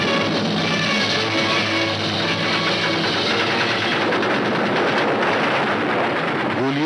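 Sustained, dense battle noise from the 1964 Indian war film Haqeeqat, with continuous loud machine gun fire and gunshots layered over a roaring background din throughout.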